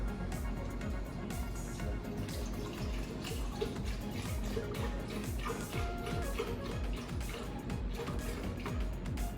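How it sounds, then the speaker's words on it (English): Almond milk poured in a steady, close trickle for a smoothie, a continuous liquid splashing with light gurgles throughout. "First, I'm going to pour my almond milk."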